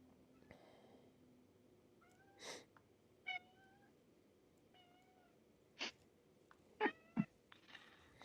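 A pet cat named Gimpy meows several times in short, separate calls spread across the stretch, fairly close but soft, over a quiet room background with no talking.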